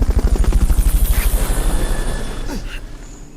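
Helicopter from the Fulton recovery in Metal Gear Solid Peace Walker, a video game: a loud, close rotor thumping in a steady rapid rhythm that fades and drifts away over a few seconds, with no talk over it.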